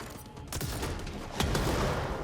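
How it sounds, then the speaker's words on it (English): Heat-seeking rockets in Control whoosh and burst amid a continuous roar of combat, with a couple of sharp impacts standing out over the dense rumble. "Okay, you've got heat-seeking rockets."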